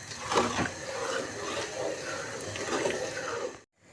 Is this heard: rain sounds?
no